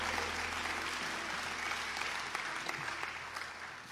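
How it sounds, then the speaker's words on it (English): Church congregation clapping their hands in praise, a sustained crowd of claps at moderate level that tapers slightly toward the end, with a low steady hum underneath. "Clap your hands and come on,"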